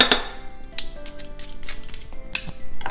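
A fork works through a bowl of black bean, corn and avocado salsa with garlic, giving close, irregular clinks and scraping taps against the dish.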